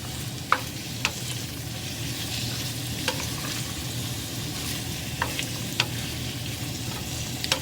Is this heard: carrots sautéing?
yes